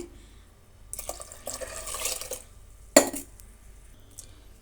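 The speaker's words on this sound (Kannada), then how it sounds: "ಈಗ ನಾನು ಇದಕ್ಕೆ ನೀರನ್ನು ಸೇರಿಸ್ತೀನಿ" Water poured into a pan of sprouted horse gram sambar, a rushing splash for a couple of seconds, then a sharp metallic clink of a vessel and faint trickles.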